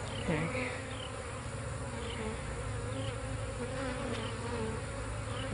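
Dense, continuous buzzing of many honey bees fills the air, a steady loud hum with individual insects drifting past nearby.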